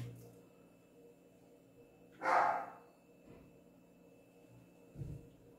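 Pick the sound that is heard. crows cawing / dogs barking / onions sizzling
dogs barking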